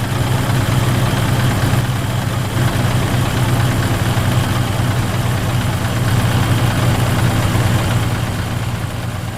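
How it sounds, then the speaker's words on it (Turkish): A heavy truck engine idles steadily in American Truck Simulator, a loud, continuous low rumble with a faint rattling vibration and no pauses throughout. "bak motorun sesini daha iyi duyarsın"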